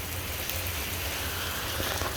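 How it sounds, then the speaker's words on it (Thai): Steady rain falls across a flooded stretch near a railway line in Kanchanaburi, a dense even hiss of drops on surfaces with no pauses and no talking. "ถือว่าฝนตกนะ"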